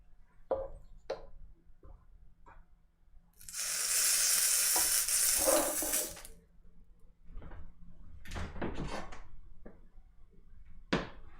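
Lasagna burger sauce in a pan, heard as a loud sizzling, bubbling burst for a few seconds, then scattered clatters and scraping stirs, close and without talking.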